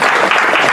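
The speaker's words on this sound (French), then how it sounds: "Merci, les applaudissements s'il vous plaît." Congregation at a church press event gives a brief burst of loud, dense applause, close and steady for under a second.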